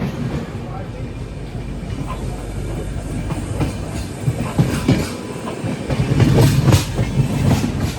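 A train rumbles steadily along the tracks with rhythmic clickety-clack, heard from inside a carriage, growing louder toward the end.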